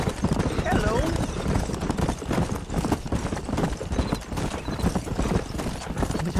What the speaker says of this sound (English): Chill out, horse. Stop neighing.